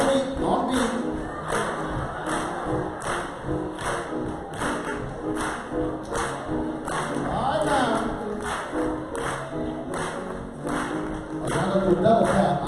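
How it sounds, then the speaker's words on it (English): A crowd at an event claps in a steady rhythmic beat, a dense, fairly loud patter of many hands that carries on throughout, with voices shouting and talking over it. "Y'all want to clap down there?"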